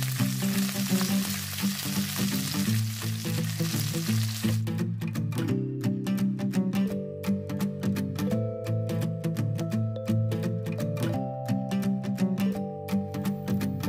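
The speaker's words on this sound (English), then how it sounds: "tilting the skillet towards the butter and cooking until butter is foaming, about 30 seconds" Steak cooks in a skillet with foaming butter, giving a loud, steady frying sizzle that runs throughout. Broadband crackle fills the first few seconds, then continues alongside rising tonal sounds.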